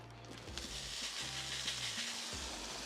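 Butter sizzling on a Blackstone griddle for hash browns, a steady, close hiss of frying with a faint low hum underneath.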